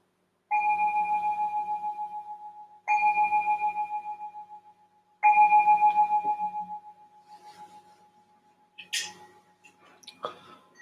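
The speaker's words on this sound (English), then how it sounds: "So I'm going to ring the bell to signal the start of this meditation." A meditation bell struck three times to open a Buddhist meditation session, each ring clear and sustained with a slowly pulsing decay, followed by faint soft clicks and rustles.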